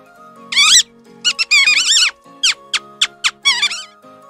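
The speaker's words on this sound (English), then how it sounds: "Mouse." A mouse squeaks in a quick series of sharp, high, chirping bursts, about nine in all, some short and some drawn out, close and clear with no other sound.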